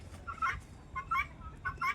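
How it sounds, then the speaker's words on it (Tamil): Guinea fowl give three short bursts of harsh, rhythmic cackling calls, evenly spaced and fairly faint at a middle distance outdoors. "இதுதான் கிருணி கோழியோட சத்தம்"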